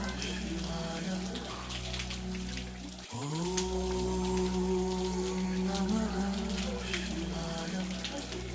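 Water falls and splashes at a temple as a steady, close patter with dripping, and a tonal hum shifts partway through.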